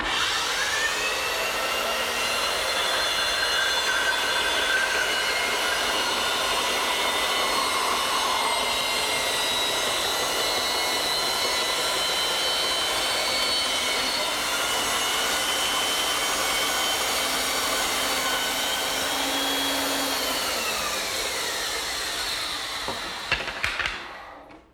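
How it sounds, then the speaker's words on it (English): A power saw runs steadily while a wooden blank spins against it, cutting a tabletop circle; a loud, continuous whining drone holds throughout and winds down at the very end. "And then I'll turn the saw on, spin the blank, and I'll get a perfect circle every time."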